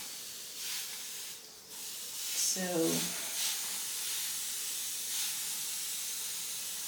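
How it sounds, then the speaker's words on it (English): A spray bottle mists water onto 4C hair in soft hissing bursts that come and go, with a brief burst of talk partway through. "So first step is to spray with water."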